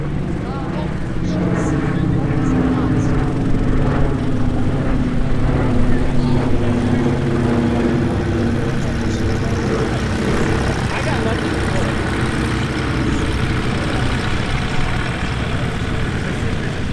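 A yellow and white Van's RV light propeller plane taxis at EAA AirVenture Oshkosh, its engine a steady droning rumble heard amid air traffic radio chatter throughout.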